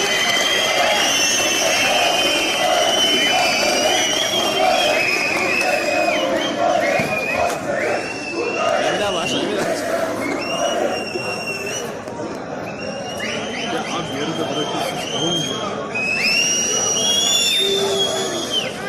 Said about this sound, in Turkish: Alkış ve ıslıklar ile protesto yapan öğrenciler yemeklerin daha hijyenik çıkmasını istediler